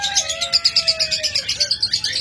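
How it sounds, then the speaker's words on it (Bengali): Caged pet lovebirds and budgerigars at a bird sale chirp in a fast, even run of bright tweets close by, with a thin whistle drifting underneath. "অসংখ্য পাখি রয়েছে, আপনাদের যার যেটা পছন্দ হবে যোগাযোগ করবেন।"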